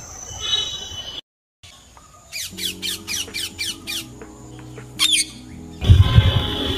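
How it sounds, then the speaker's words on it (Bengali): A parrot squawks from high in a mango tree in a Kolkata bird sanctuary, giving a quick series of sharp, harsh calls and then a lone call, with quieter background noise between them. "ওপরে অনেক উঁচু একটা ডালে টিয়া পাখি আছে"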